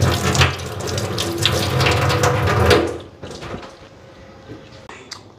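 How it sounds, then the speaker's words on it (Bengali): Tap water pours steadily into a bucket for nearly three seconds, a broad rushing splash, then cuts off, leaving quieter kitchen clatter and small knocks. "বালতিতে জল ভরে রাখতেছি"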